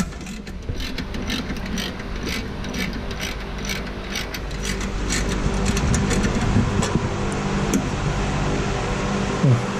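Ratchet clicking steadily while a mechanic loosens the band clamp nut on a rear Vance & Hines slip-on muffler of a 2017 Harley-Davidson Iron 883, rapid close pawl ticks continuing throughout over a low background rumble.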